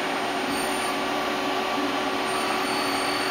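A Citizen M20 CNC Swiss lathe running, its turret and spindle giving a steady high machine whine with a constant tonal hum, close and unchanging, no talking.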